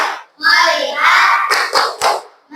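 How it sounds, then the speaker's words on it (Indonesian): An Indonesian classroom runs the rhythmic 'tepuk fokus' clapping routine, with children's voices chanting along between brief hand claps and thumps, loud and close. "Tepuk fokus."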